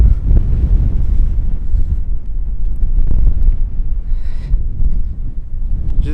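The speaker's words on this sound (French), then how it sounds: "Là, le vent il est impressionnant." Strong wind on the Biville dunes buffets the microphone, a loud, constant low roar and rumble with gusting swells throughout and no clear voices.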